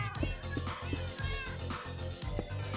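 Minecraft cats meowing repeatedly, a string of bright, close mews at an irregular pace, some drawn out, heard alone over a soft game soundtrack.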